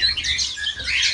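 Diamond finches chirp in an aviary, bright overlapping high tweets clustered close together in a short busy burst, with no voices.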